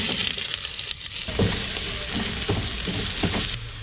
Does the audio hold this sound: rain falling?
no